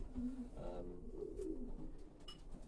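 Anlo pigeons, a calm and placid strain, coo softly inside a loft, low murmuring calls repeating close by with faint rustling and no talk.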